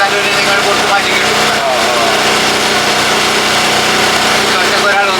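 A boat engine drones loud and steady throughout a sightseeing boat ride along Kochi's Marine Drive, an unbroken close hum with no break.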